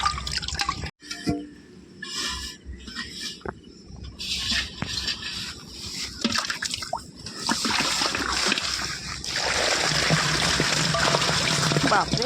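Freshly caught pond fish, magur, shol and koi, thrash in a pot of water, with irregular drips and sharp splashes that build into continuous loud sloshing and splattering near the end.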